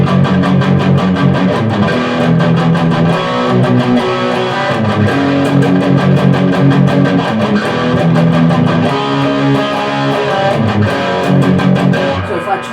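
Distorted electric guitar riffs through a Marshall JCM 800 pedal, with background hum from a grounding fault on the guitar; loud chugging palm-muted chords and sustained power chords repeating in a steady rhythmic pattern, played alone.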